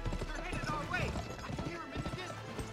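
Horse hooves clip-clopping in a rhythmic gallop in the Western video game Gun, steady and close, with a voice talking over them and game sounds around.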